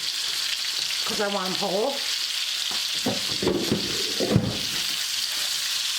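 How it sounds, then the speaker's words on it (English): Pork chops with onion and whole mushrooms sizzle and fry steadily in a pan, a continuous hiss with stirring scrapes, while a person talks briefly over it. "My pork chops are browning good. I'm going to add the onion and the mushroom in there."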